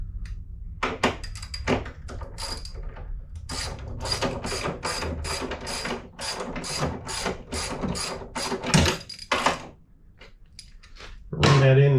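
Ratchet clicking in quick repeated bursts as a rear motorcycle shock mounting bolt is run in snug during an Öhlins shock upgrade, close and loud with short pauses between strokes.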